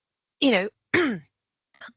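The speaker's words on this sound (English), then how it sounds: "got a cough. Hang on." Two short, harsh throat-clearing coughs in quick succession, close and fairly loud, followed by a faint brief rasp.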